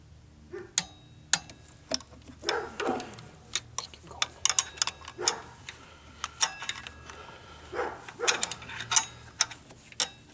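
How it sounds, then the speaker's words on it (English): Sharp, irregular clicks and ratcheting ticks from a click-type torque wrench tightening the water pump bolts on a Chevy Impala, close by in a quiet garage, in short bursts. "With all the bolts in, torque them to 18 foot-pounds. I'm using a click type torque wrench."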